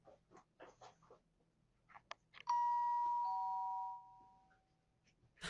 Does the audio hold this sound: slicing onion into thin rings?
no